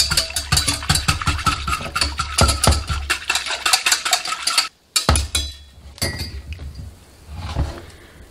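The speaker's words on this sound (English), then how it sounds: "And then I'm going to whisk it up because I don't want any lumps at all in my paste." A whisk beats a flour and water paste in a bowl, giving rapid rhythmic metallic clinks and scrapes, loud and close. A short pause comes in the middle, then softer, slower stirring follows.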